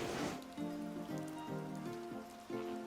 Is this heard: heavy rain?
yes